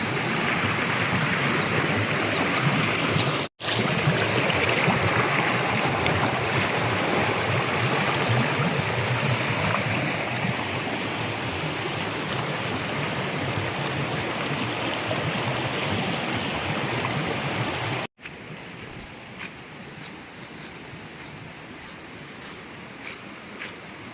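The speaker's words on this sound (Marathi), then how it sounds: "इतकं पाणी खालच्या वाडी साईडला जातो" Rainwater runs downhill toward lower farm plots in a village during rain, making a continuous close rushing sound with two brief cutoffs.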